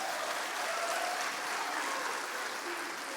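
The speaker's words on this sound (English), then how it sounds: "can we get a round of applause for everyone on tech team right now?" An audience applauds a church tech team, a brief dense wash of clapping that stays steady and fairly distant throughout.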